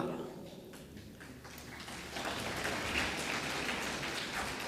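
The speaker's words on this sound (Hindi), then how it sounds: "अब देखो यहां भी तालियां पुरुषों की ओर से हुई।" Applause from a mostly male audience at a Ram Katha religious discourse on Lord Ram's wedding in Korba, a diffuse steady patter that swells louder around its midpoint and holds to the end.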